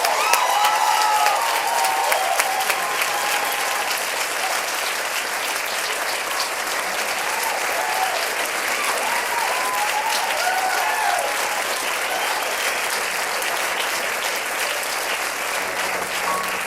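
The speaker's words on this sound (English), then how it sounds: "I'm sure we're going to give him the hugest round of applause" Sustained, dense applause from a live audience at a Birdland club show, with scattered cheers and whoops running steadily throughout as a performer is welcomed to the stage.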